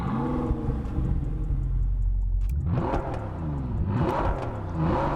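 A Bentley in the racing game Test Drive Unlimited Solar Crown rumbles at a low idle, then revs sharply twice with rising engine pitch. Each rev is loud and close and drops back between them.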